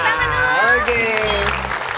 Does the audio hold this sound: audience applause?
yes